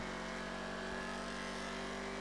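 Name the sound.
car accelerating in video game GTA 5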